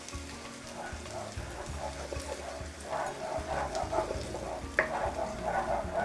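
Cooking cream poured into a sizzling peppercorn sauce for steak in a pan brings a crackling bubbling that grows busier midway, with a sharp clink, and quiet speech underneath.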